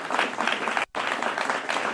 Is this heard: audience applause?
yes